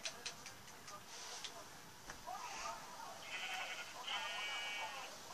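Sheep in a survival video game give a couple of short, nasal bleats near the end, quiet and partly buried under people talking and clicky game noises.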